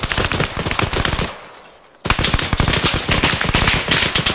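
Rapid automatic gunfire in the ArmA 3 military shooter, loud dense bursts of closely spaced shots that stop for about a second, then resume in another sustained volley.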